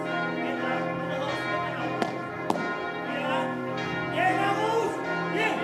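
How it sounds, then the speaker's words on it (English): Church bells tolling around the center of Halmstad, a sustained rich ringing with layered overtones and a couple of sharp strikes, heard continuously under the ambience of an indoor sports venue. "But bells ringing right around the center of Halmstad."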